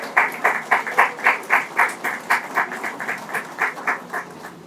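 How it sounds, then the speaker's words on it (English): An audience at a St. Patrick's Day celebration claps for an award recipient with a steady, rhythmic beat of distinct claps, closely miked and moderately loud, easing off toward the end with no talking. "One big round of applause, one last time for our award recipient"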